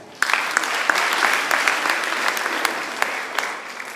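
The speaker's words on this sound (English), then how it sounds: "Clap for yourself because you're empowered." An audience at a female student leaders' conference claps steadily and fairly loudly, a dense wash of many hands with a few sharper claps standing out.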